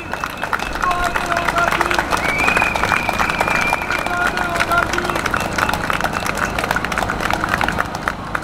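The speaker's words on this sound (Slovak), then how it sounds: "ktorý si naozaj zaslúži potlesk" A crowd claps continuously at a public gathering in Bratislava, a dense, steady patter of many hands lasting the whole stretch, with voices mixed in.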